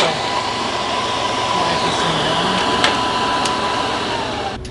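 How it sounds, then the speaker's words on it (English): A Thermal Dynamics Cutmaster 60i plasma cutter roars steadily while gouging metal, a loud continuous hissing rush with a faint tone running through it, alone without talk. "after gouging with this unit, pretty awesome."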